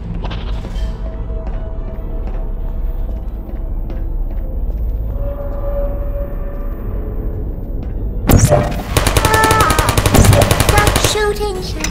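Rapid automatic machine gun fire in a video game, a loud sustained burst breaking in after a stretch of low rumbling ambience.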